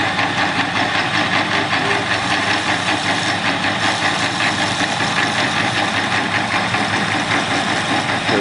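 A metal lathe machines the top of a brass ornamental flask, giving a loud, steady mechanical whirr and hum that runs without a break for the full eight seconds.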